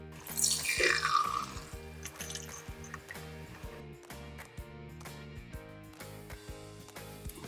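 Homemade Becherovka-style herbal liqueur tincture is poured through a fine sieve, opening with a brief splashing gush and settling into a steady trickle under continuous background music.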